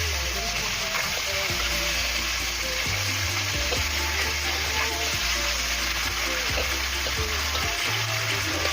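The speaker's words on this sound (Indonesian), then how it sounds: "Kita goreng sampai sisinya itu kuning kecoklatan seperti itu, tidak perlu gunakan terlalu banyak minyak" Chicken fries in a little oil in a pan with a steady, loud crackling sizzle, punctuated by soft bumps and stirring knocks.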